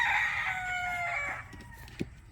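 A rooster crows among a flock of Boston Black and Golden Boy chicken pullets, one loud drawn-out crow fading out after about a second and a half, followed by a brief cluck, with no voices.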